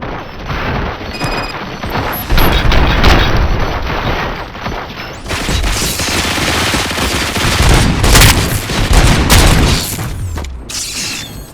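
Sustained gunfire in the video game Robocop: Rogue City, loud continuous bursts of shots and booms with mechanical clatter, dense and near throughout.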